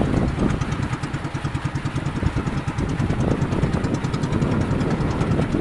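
Fishing boat engine running at a steady idle, a loud, close, rhythmic chugging and knocking with rapid regular pulses that continue without a break.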